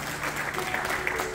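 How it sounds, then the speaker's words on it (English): Church congregation clapping hands in praise during a morning service, a dense, steady patter of applause held at moderate level throughout, with a faint sustained tone underneath. "Give you a hand clap of praise before you're seated this morning"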